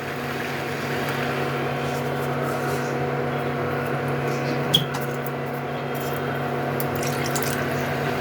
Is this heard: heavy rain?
no